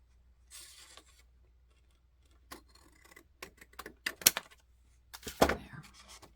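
Large scissors cut paper for a junk journal, giving scattered crisp snips and rustles close by, with quiet gaps between a few sharper cutting bursts.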